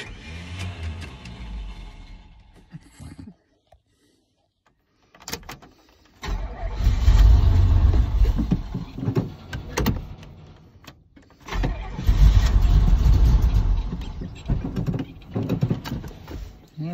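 A truck that has run out of gas cranks repeatedly at a sawmill, with two long loud bursts of starter grinding and engine sputter separated by short pauses and quiet stretches.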